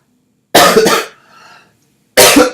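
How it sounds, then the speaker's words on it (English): A person coughs twice in quick succession, close and loud, followed by a softer raspy breath, then a quiet pause before another harsh double cough. "can't get over this cough"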